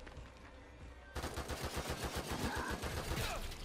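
Rapid repeated gunfire in The Evil Within 2 starts abruptly after a quieter stretch and continues as a steady rattle of shots to the end, loud and close.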